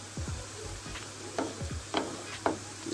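Plantain slices fry in hot oil and get stirred in the pan, a soft sizzle broken by several light scraping and clinking stir strokes at an uneven pace, close and fairly quiet.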